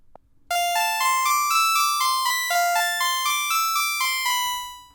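A simple, creepy scale played on a bell-like synth in Ableton Live: about a dozen bright, ringing notes in an even, steady rhythm, each fading into the next.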